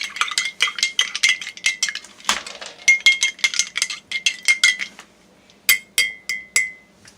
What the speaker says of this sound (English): I'm going to take out a spoon. I'm going to stir it.